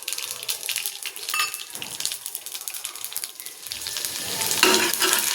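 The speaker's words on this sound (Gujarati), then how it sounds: "રાઈ ફૂટી જાય પછી જીરું નાખીશું।" Mustard seeds and cumin sizzle in hot oil in a pan for Kathiyawadi sev tameta shaak, a crackling, hissing fry that swells louder toward the end, heard up close without speech.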